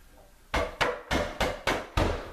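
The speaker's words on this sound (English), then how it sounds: "this thing's going to take just a little bit of a tap to get it to set" Six sharp tapping knocks seat a wooden cubby piece into place, evenly spaced and close, each a crisp impact with a short decay, with no talk over them.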